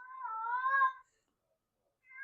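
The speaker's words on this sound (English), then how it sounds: "That's my cat, by the way." A house cat meows twice, a drawn-out complaining cry followed after a pause by a shorter one, fairly faint and close with nothing else around it.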